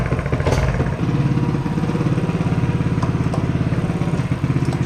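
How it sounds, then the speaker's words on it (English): A go-kart engine revved hard with the choke off, a loud, close, rapid mechanical putter that pulses steadily and clatters throughout, with no talk over it. "Take choke off and keep revving it."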